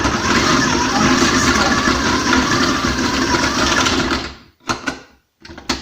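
A KitchenAid food processor grates vegetables with a loud, dense motor whir and rattling of pieces against the grating blade, then cuts off, followed by a few short bursts as it is pulsed again.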